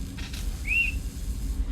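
A person whistles one short, sliding note that stands out faintly and briefly against a quiet background hum.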